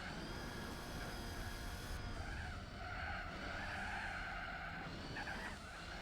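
A car on snow tyres skids across tarmac in Gran Turismo 4, a steady sustained tire squeal and slide over engine drone, quiet and continuous with no talk.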